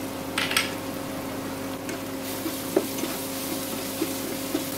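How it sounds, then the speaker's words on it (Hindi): Peanuts fry in oil with asafoetida and turmeric in a pan for bread upma, giving a steady soft sizzle with occasional light clicks and stirring taps, close by and with no talk. "दो तीन मिनट और फ्राई होने देंगे इसे।"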